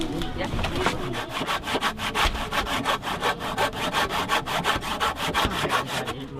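Hand saw cutting through wood in quick, regular back-and-forth strokes, close and clear, with a few faint voices murmuring in the background.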